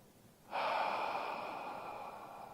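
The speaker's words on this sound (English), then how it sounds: "Take a nice deep breath now." One long, deep breath drawn in close to the microphone, starting abruptly and then easing off into a soft, airy rush against quiet surroundings.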